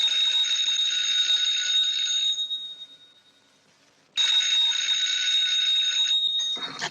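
A 1940s telephone bell rings in a long loud burst, stops for a moment, then rings again, bright and close with no one speaking.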